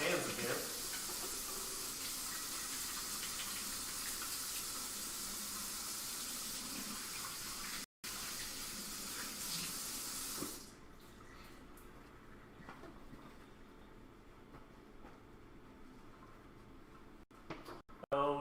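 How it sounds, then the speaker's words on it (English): Water pours steadily from a tap as hands are washed at a sink during a home brew day, a loud close hiss lasting about ten seconds before stopping, followed by quieter handling noises. "Wash my hands again."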